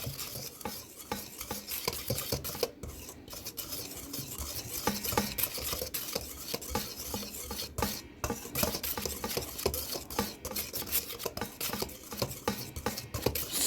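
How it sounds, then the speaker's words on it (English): A beater repeatedly scrapes and rasps through flour and salt in a bowl, a steady rhythmic scratching stir close by with no voices. "what I'm going to do now is just mix it around with my beater"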